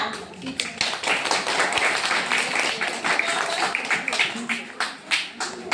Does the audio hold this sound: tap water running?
no